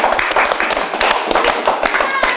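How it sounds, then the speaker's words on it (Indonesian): Hand clapping from a podcast stand-up audience, sharp claps in quick bursts mixed with laughter and chatter, fairly loud and close throughout. "saya ingin tepuk tangan"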